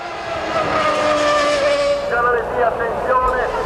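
Formula One cars from the 1994 Italian Grand Prix at Monza, including Ferrari engines, scream past loudly in a sustained high-pitched whine that rises and falls as they pass close by.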